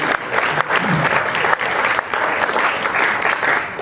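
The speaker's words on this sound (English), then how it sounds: "Round of applause for the pastors in the room." A room of people gives a round of applause for the pastors present at an aviation business talk, dense clapping that holds steady and fairly loud for a few seconds.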